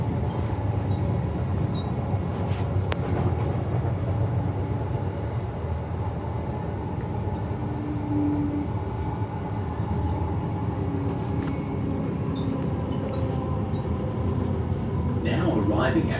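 Brisbane Cleveland Line train pulling into Birkdale Station, heard from inside the carriage as a steady loud rumble and hum of the moving train throughout, with a voice speaking over it.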